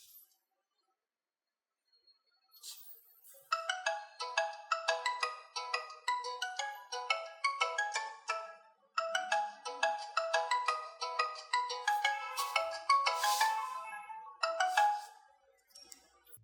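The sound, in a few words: POCO F1 phone ringtone for incoming call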